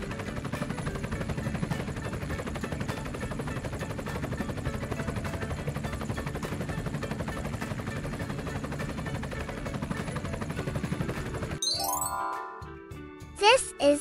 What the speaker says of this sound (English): This is a Chinook helicopter, powerful twin-rotor aircraft used for military transport